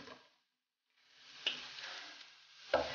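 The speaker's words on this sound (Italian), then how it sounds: "soffriggiamo il prezzemolo con un filo d'olio e un po' di aglio" Parsley frying with garlic in a drizzle of olive oil: soft, steady sizzling after a brief pause, with a couple of light clicks or taps from the pan.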